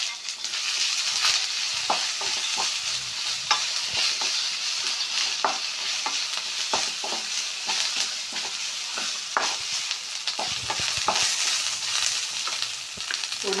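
Shallots, curry leaves and dried red chillies fry in hot oil with a steady, bright sizzle, punctuated by frequent scraping stirs of a spatula against the pan, close and continuous with no voices.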